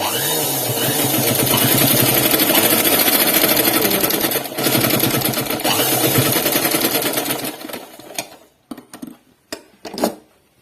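A sewing machine runs fast while stitching the collar of a dress, a close, loud rattling whir lasting about eight seconds, then a few short bursts and clicks as it stops and starts.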